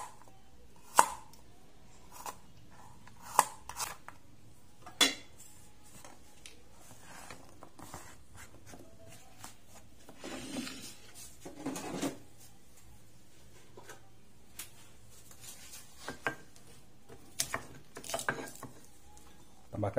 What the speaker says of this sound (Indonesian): kita haluskan dulu bumbunya sebelum kita ulek ya